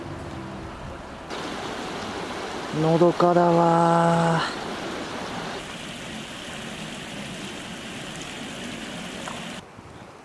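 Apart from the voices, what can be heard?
river stream water flowing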